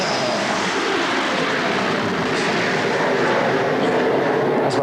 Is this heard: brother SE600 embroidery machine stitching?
no